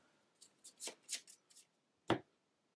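Game cards being shuffled during a tabletop card game, a few quick riffling bursts close by, then a sharper single snap of the deck near the end, no talking.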